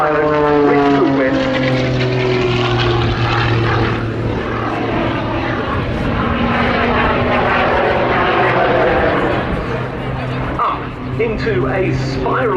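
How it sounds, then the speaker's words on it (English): A display aerobatic airplane fitted with two small Lynx jet turbines of about 300 pounds thrust each roars through manoeuvres at an airshow, its engine note rising and falling in sweeping pitch changes while a commentator talks over it. "the aeroplane has two small Lynx jet turbines of about 300 pounds thrust each"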